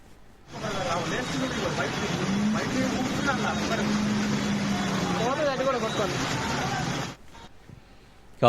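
Vehicles stuck in a traffic jam on flooded roads after heavy rain: a continuous, loud drone of engines with water swishing and rushing around them, with voices in the background, before it cuts out.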